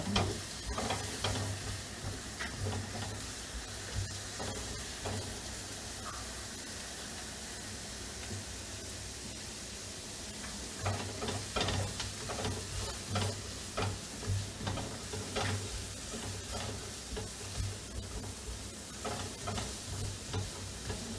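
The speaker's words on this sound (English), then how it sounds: "we will stir fry the onion and garlic until it's a little bit brown" Onion and garlic stir-fried in a pan until lightly browned, a steady close sizzle with rhythmic scraping stirs that grow busier midway, for a vegan tom yum beehoon dish.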